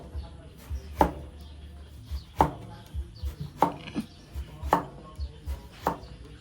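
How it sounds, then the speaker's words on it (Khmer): Eggplant being cut into thin round slices on a board, a series of sharp knife chops at an uneven pace, close and clear over a faint background hum. "ឥឡូវនេះខ្ញុំងាកមកហាន់ត្រប់យើងហាន់ប្រទះវាមូលហើយស្ដើងល្មមកុំក្រាស់ពេក"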